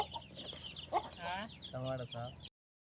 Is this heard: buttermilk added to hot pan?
no